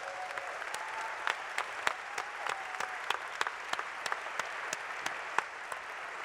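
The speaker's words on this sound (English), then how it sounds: "Please give them a round of applause." Applause from the audience at a Star Wars Celebration Europe panel on the art of The Force Awakens, heard fairly faint and distant as a soft crowd patter punctuated by a few sharper, closer individual claps.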